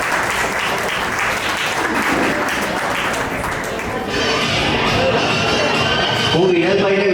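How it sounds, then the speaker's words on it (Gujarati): Audience applause at an annual community gathering and award ceremony, dense and loud clapping that carries on throughout, with a voice rising briefly near the end. "ખૂબ તાળીઓના ગડગડાટથી વધાવી દઈએ."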